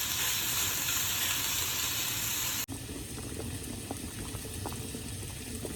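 Lamb chops sear in a skillet with a loud, steady sizzle while potatoes boil nearby, a dense bubbling hiss that shifts in tone partway through with small pops and crackles.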